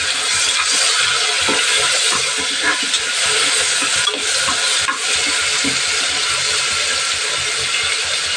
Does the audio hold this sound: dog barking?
no